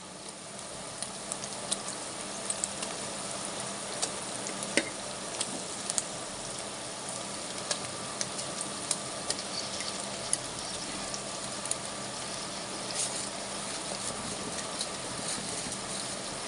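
Mullet fish cooking in a clay pot for a curry, a soft steady sizzle and bubbling with occasional sharp clicks and knocks, close and fairly quiet, no voices.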